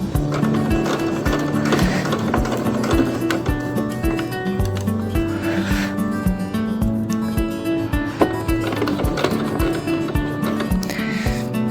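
A sewing machine stitches an apron in a steady, fast mechanical rhythm, each needle stroke a rapid close thump that carries through to the end with little pause.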